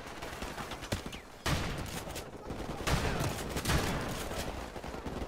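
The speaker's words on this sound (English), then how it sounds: "Take out some unsuspecting guys with the shotgun." Loud shotgun blasts in the first-person shooter Modern Warfare Remastered, several heavy booming shots spaced a second or so apart, each followed by a dense crackling burst and ambient battle noise.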